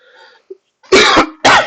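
Two sharp, loud coughs close to the microphone, coming in quick succession after a brief quiet throat sound.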